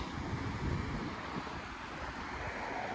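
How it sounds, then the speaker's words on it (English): Steady rushing water from a small waterfall on a creek in Toronto's Malvern neighbourhood, a broad continuous wash with some wind buffeting the microphone. "Look at that waterfall."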